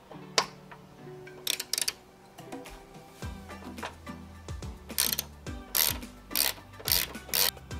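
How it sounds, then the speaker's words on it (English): Hood strut bolt on a 2015–2023 Ford Mustang being tightened with a 6 mm Allen key, a run of sharp metallic clicks and ticks in irregular bursts, close up with no talk. "now let's get our Allen key. The Allen key that we're using is actually a 6 millimeter."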